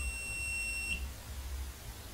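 An indicator buzzer in an Arduino PLC simulation setup gives one thin, high-pitched electronic tone that lasts about a second, then stops, leaving faint background hiss.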